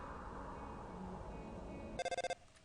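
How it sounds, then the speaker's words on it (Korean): Telephone ringing in the Undertale video game: a short burst of about five rapid, evenly spaced electronic rings, clear and fairly loud over quiet background game music. "어 전화가 왔다"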